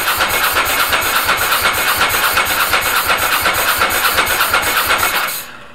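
A Ducati ST4 motorcycle engine cranking on its starter without firing, a loud, steady rhythmic churning pulse for about five seconds before it cuts off.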